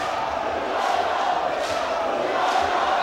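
A boxing crowd cheers and roars at a fight night, a dense, steady wall of voices with small swells, heard from inside the venue.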